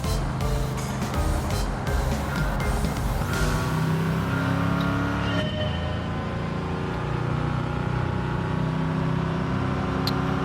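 An older car driven in the racing video game Gran Turismo 7, its steady engine drone running continuously at moderate volume with a few brief tonal blips, no talk over it.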